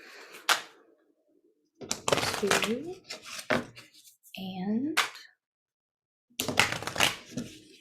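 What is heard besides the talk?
shuffling tarot cards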